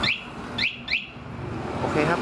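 A car alarm on a Sumo-type vehicle gives three short rising chirps after the remote lock button is pressed, evenly spaced and fairly close, with a steady low background hum underneath.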